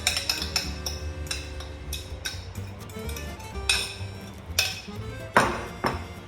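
Mashed bananas being scraped out into a mixing bowl with a utensil, giving repeated clinks and scrapes against the bowl over a low steady hum, close and fairly loud.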